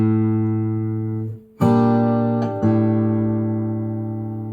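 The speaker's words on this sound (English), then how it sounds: "measure 30 wraps up with the open fifth string" Open fifth string ringing on a fingerstyle acoustic guitar, a single low note sustaining with a couple of soft re-plucks partway through, close and alone.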